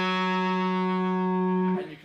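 A distorted electric guitar holds a sustained rock-blues note after a hammer-on, ringing steadily for nearly two seconds before being cut off, played alone with no talking.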